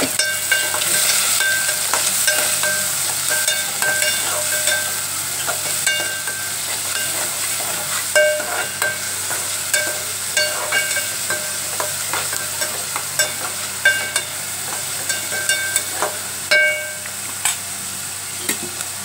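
Onions and curry leaves fry in a pan for a Telugu okra pulusu, giving a steady close sizzle with soft stirring scrapes that grow more frequent toward the end, no talking.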